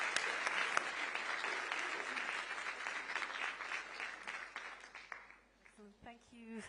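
A conference audience breaks into dense, sustained applause that gradually thins and fades out, with a voice starting to speak near the end.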